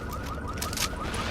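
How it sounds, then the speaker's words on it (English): An electronic alarm in the video game Tom Clancy's The Division wails in a steady, repeating rising tone, loud and alone over a constant background bed. "that's my alarm."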